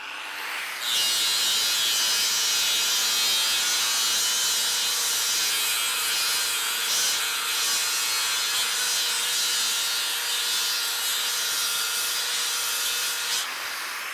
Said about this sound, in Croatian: Fiber disk granulacija 36 korišćen je već, brzina 4, da vidimo kako ćemo i za koliko ovaj ovde var obrusiti.